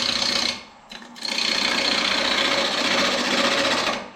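A wood lathe turns a juniper blank as the tool cuts it toward a cylinder, giving a close, continuous scraping rasp with a brief dip early on, then a steady cut until it stops.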